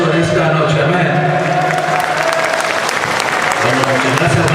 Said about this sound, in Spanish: vamos a dar un fuerte aplauso en esta noche